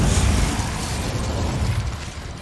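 An Incendio fire spell cast in the Hogwarts Legacy video game bursts out as a dense, roaring fiery blast that holds steady and loud for about two seconds before easing slightly, with no voices over it.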